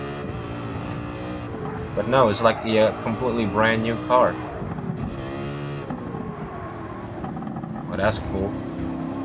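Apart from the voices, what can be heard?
Ford Mustang race car engine in video game Gran Turismo 7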